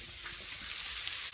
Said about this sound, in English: I'm cooking tofu